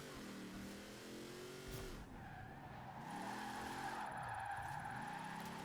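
Off-road Mini in Forza Horizon 4 under braking, its engine note dropping and rising while tires squeal and skid in a long continuous screech, loud and close, with no talk.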